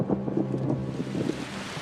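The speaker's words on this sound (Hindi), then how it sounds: "लगभग हर दिन तेज बारिश हो रही है।" Heavy rain pours steadily onto flooded grassland, a dense continuous hiss with a low rumble, close and loud, with no voices.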